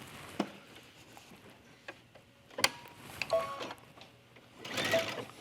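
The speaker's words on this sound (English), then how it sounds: "Back stitch and stitch to the end." A sewing machine backstitches and then stitches along fabric while making a buttoned placket for a tunic, with quiet bursts of mechanical whirring and ticking at close range and short pauses between runs.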